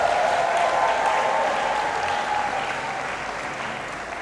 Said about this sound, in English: I would like you to give yourself a very loud round of applause.